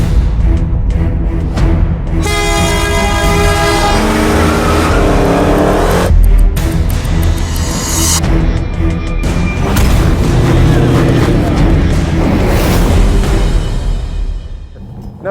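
Hemi-powered race cars, a gasser and a Super Bee, running on a coned-off city street course: loud, near engine roar with revving and accelerating passes, sustained throughout with brief dips and booming bursts.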